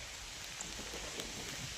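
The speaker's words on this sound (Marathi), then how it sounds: "आता चांगला पाऊस यायला लागलाय" Steady rain hissing evenly with scattered drips under a mango tree, no voices, a soft continuous wash of falling water throughout.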